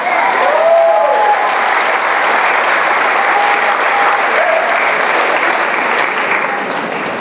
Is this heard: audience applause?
yes